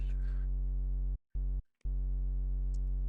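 A quiet, very low synth sub bass holds a steady, smooth tone, briefly cutting out twice before resuming as a continuous low hum.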